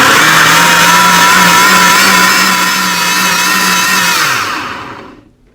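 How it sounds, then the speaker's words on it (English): Blender running on chiles and garlic, a loud steady high motor whir lasting several seconds before winding down and stopping at the end. "Let's cover it and let's go take it and blend it completely."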